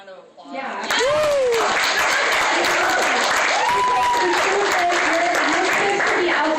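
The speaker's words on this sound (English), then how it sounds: "Can we just give her a round of applause?" An audience at an anime convention cosplay panel breaks into loud, sustained applause mixed with chuckles and cheering after a brief moment of talk.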